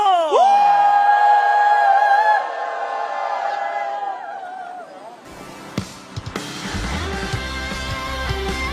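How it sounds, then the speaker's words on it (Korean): A standing crowd at a religious rally lets out a loud, sustained collective shout that holds strongly for a couple of seconds, then fades into a rowdier mix of whoops, yells and scattered noise. "함성 발사!"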